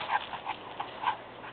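A puppy pants softly in quick, uneven breaths mixed with thin whimpers, close by and fairly quiet, with no talking over it.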